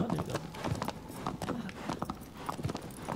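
A horse trots in Shadow of the Colossus, its hooves clip-clopping in a quick, steady rhythm up close, with faint speech now and then underneath.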